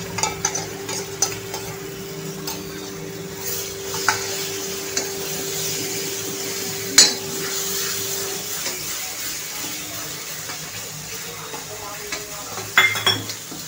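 Paste of tomato, chili and cashew is tipped into a pan of frying spices and stirred, with a faint sizzle, spoon scrapes and occasional clinks against the pot. A steady hum sits beneath, and no one speaks.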